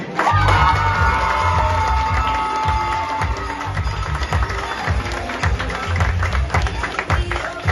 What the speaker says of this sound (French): Merci d'applaudir les médaillés